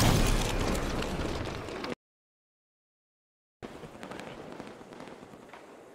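In Halo, a Rocket Hog fires rockets with loud explosive bursts and roaring blasts, broken by a sudden silent gap before more rumbling booms resume.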